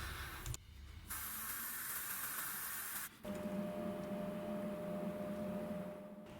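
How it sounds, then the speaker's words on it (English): An airbrush sprays RLM71 paint onto a 1/48 Hasegawa Junkers Ju-87 Stuka model, giving a steady close hiss in two bursts separated by a short break, with a lower hum from a compressor underneath. "Initially I sprayed the RLM71 a little bit light, so I deepened the shade inside the panels with another coat."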